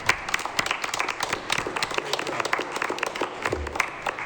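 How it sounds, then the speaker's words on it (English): An audience at a regional school district committee meeting claps for the kids, a dense, steady round of applause sustained throughout with sharp individual claps standing out. "Round of applause for the kids."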